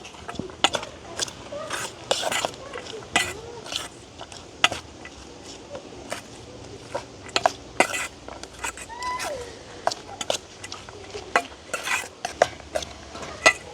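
A spoon stirs a seafood dish with lime juice in a village kitchen, scraping and clinking against the bowl in a steady rhythm of close, irregular taps over a faint background.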